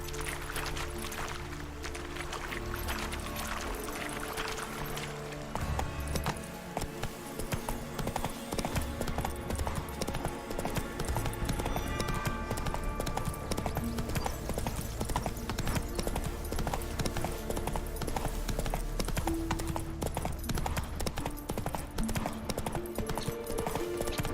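Horse in The Witcher 3 galloping with steady, rapid clip-clopping hooves that build and continue throughout, loud and close, over a layered game soundscape.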